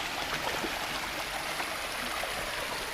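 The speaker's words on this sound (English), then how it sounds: "That's like a 20-foot waterfall." Water from a roughly 20-foot waterfall in Tennessee rushes and splashes in a continuous, faint, broadband hiss with no voices.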